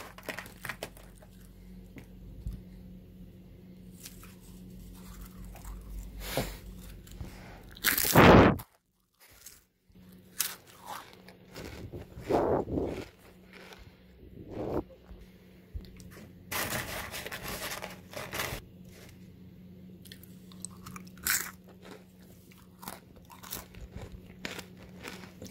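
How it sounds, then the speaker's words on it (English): Loud, close crunching of goldfish crackers in an ASMR eating session: a string of sharp crisp bites and chews with short pauses and one especially heavy crunch burst. "Let's hear a level 10 crunch."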